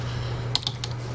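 Several quick keystrokes on a computer keyboard, typing a search on a Windows 8.1 PC, sound in a short, uneven burst over a steady low electrical hum.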